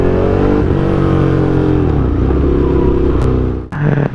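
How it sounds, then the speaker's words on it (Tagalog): A Ducati Hyper Motard motorcycle with an SC Project exhaust pulls away under steady, loud acceleration, its engine note climbing through the gears before cutting off sharply near the end. "Sobrang saya ka mo nitong Hyper Motard, kaya di ko mabitaw-bitawan talaga."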